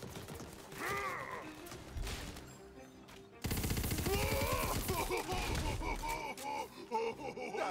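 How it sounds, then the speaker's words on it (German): Rapid gunfire rattles from above in the looter-shooter game Tiny Tina's Wonderlands, bursts of shots mixed with game music and effects, loud and continuous, with a voice talking over it. "ich werde von oben angeschossen"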